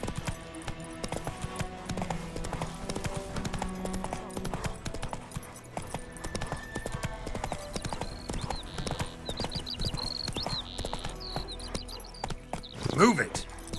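Roach, Geralt's horse in The Witcher 3, trots with steady clip-clopping hooves throughout, a brief whinny near the end, all under layered game music and effects.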